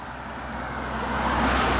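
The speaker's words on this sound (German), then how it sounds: "Ich liebe ja Autos, die so schnell an einen vorbeifahren." A car passing by quickly on a road, a steady broadband roar of engine and tire noise that builds gradually in loudness as the vehicle approaches.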